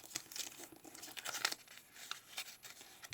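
Stiff paper being creased and folded into a triangle while making a surfboard craft, giving soft crinkling and rustling in brief bursts, close and fairly quiet, with no talking.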